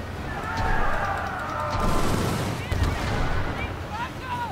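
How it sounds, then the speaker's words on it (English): Mortar fire from a pirate ship in the naval video game Skull and Bones, a series of booming blasts amid dense battle noise and rumbling, with whistling sounds toward the end. "There's the mortar going for him."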